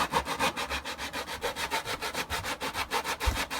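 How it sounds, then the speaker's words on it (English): Sandpaper rubbed by hand across the back of a Shadow Trooper armor part, a steady series of close, scratchy strokes in an even back-and-forth rhythm with no talking. "I'm sanding from behind"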